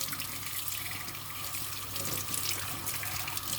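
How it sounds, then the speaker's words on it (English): Hands washed under a running kitchen tap, with a continuous close rush of water and faint splashing throughout and no voices. "I just want to wash my hands very quickly"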